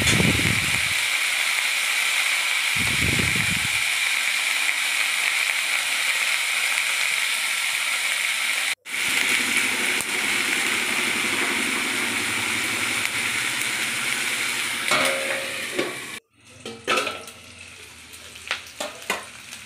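Chopped onion and garlic fry loudly in hot oil for chicken stew, a steady close sizzle with occasional spatula scrapes and stirs, ending in clattering knocks against the pan.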